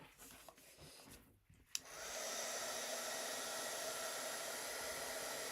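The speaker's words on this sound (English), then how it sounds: "So I'm going to kind of blow dry that a little bit, see if that works carefully." A hair dryer blows steadily on wet paint in an art journal, switching on after a brief quiet start and then running loud and constant, close up, with no talking.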